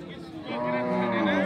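A cow gives one long, loud moo, rising after a brief quiet start and holding steady to the end, at the Ambari cattle market among dairy cows and calves.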